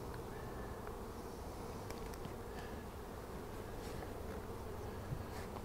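Honey bees in a bee yard hum and buzz steadily around hive frames, a dense continuous drone close by with individual bees passing near.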